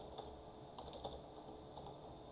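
Java code being typed on a computer keyboard produces soft, quick clusters of key clicks at an uneven pace, quiet and close, with no voices.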